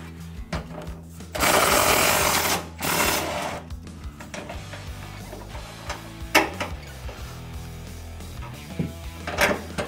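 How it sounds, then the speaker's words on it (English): On a 2019 Ford F150, the top shock bolt is undone with a power tool, giving two loud buzzing bursts, then metallic clinks and knocks as the bolt and hardware are handled. "we're going to remove the top bolt"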